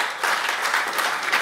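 Audience applause at a retro rugby league night, steady broadband clapping filling the whole moment at moderate loudness with no voices over it.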